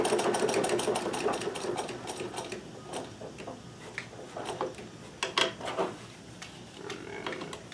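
A Necchi BU Nova sewing machine stitches a shirt cuff, a close, steady mechanical whirr of rapid needle strokes that stops and restarts in short bursts.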